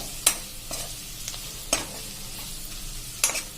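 Yogurt and chili curry simmers over a slow flame, a steady soft sizzle with a few sharp scraping stir strokes spaced apart, close and moderately loud with no voices.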